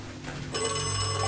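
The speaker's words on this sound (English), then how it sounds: "There's the phone ring." A telephone ringing in Five Nights at Freddy's 1, a steady electronic ring that starts partway through and holds loud and alone for the rest.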